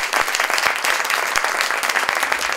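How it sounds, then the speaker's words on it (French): Audience at a science-themed talk applauds a mathematician being introduced, brisk close clapping that stays dense and even for a couple of seconds. "Anatole Khelif, on l'applaudit."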